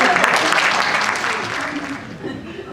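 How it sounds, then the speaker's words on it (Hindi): An audience at a literary gathering breaks into applause, a dense, steady clapping that stays loud and then tapers off slightly. "आपकी भरपूर तालियों में"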